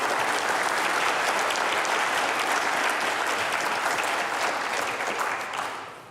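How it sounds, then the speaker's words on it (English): A live audience claps in a sustained round of applause for the guests at the end of a monthly show, dense and steady throughout before tapering off in the final second. "Let's keep that round of applause for everybody that was our guest today"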